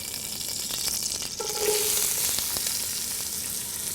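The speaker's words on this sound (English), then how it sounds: "we're going to cook this down for about 10 minutes and sweat the onions until they're soft" Onions sweating in olive oil and butter for a three bean minestrone give off a steady, close hiss of frying that swells briefly midway, with no talking.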